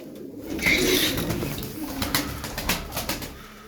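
Soft coos of performing pigeons in a loft rumble low and steady, with a few brief higher chirps and faint rustling nearby; no talking.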